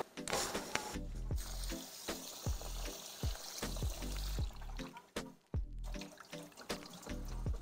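Rice rinsed in a cooking pot under running water, with splashing pours and sloshes, knocks of the pot and intermittent gushes from the tap, close and fairly quiet, no talking.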